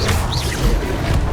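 The Incendio fire spell in the wizarding game Hogwarts Legacy: a short, dense whoosh and crackle of flame that stays loud and close throughout.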